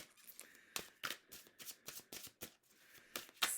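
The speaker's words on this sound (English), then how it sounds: "I'm going to shuffle, draw, shuffle, draw, shuffle, draw." A tarot card deck being shuffled by hand, a quick series of crisp riffling flicks and soft card slaps in an irregular rhythm, close and fairly quiet with no talking.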